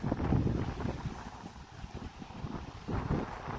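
Strong wind gusting across the open lakeside at Lake Pukaki, a steady low roar buffeting the microphone throughout, swelling and easing in waves with no other clear sounds.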